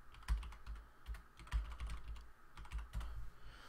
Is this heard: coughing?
no